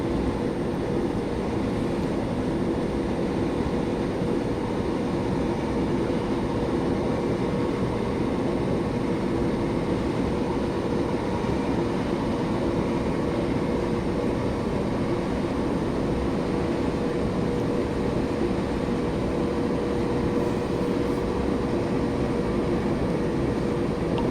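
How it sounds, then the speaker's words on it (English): Thameslink train in Train Sim 2020 on the London Victoria to Brighton line, a long, steady rolling rumble with a faint whine, unchanging in loudness throughout. "That's the Thameslink train"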